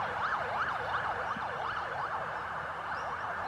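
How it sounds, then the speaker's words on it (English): An ambulance siren wails in a smooth rising and falling cycle, moderately loud, on a city street next to a hospital, over a constant wash of traffic noise. "we've got an ambulance about to propel itself onto"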